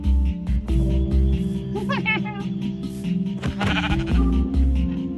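A goat bleats in the Minecraft mobile game, a few short wavering bleats sounding over steady background music and game noise.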